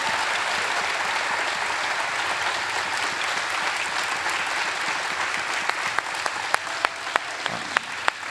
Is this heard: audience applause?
yes